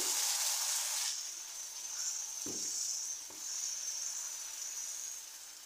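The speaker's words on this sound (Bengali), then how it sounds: "এই পাশটাকেও আমি ভেজে নিচ্ছি উল্টিয়ে" Pitha cakes frying in hot oil, a steady close sizzle with a bright hiss that swells at first and then settles, broken by a couple of soft thumps as the cakes are moved or turned.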